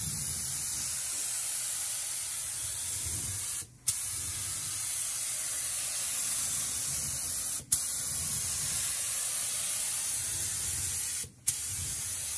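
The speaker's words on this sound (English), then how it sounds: "we're gonna go ahead and get some primer going" Primer sprays steadily from a can onto a scuffed, rust-treated 1973 Roadrunner trunk lid, a continuous close hiss broken by two brief pauses as the nozzle is released.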